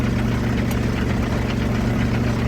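A motor engine idles steadily at close range while a water tank is being moved, a low, continuous rumble with a faint knocking pulse and no voices.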